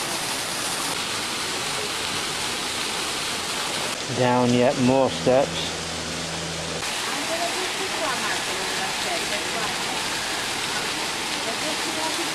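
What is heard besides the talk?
water fountain splashing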